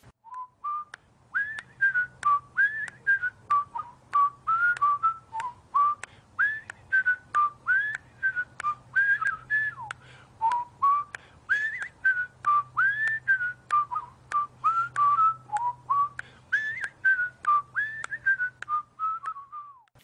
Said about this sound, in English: he was whistling the tune from the Andy Griffith Show